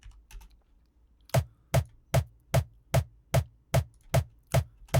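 Ten punchy, distorted hardstyle kick drum punch-layer hits repeat at a steady, driving pace, loud and up close after a brief quieter lead-in with no talking.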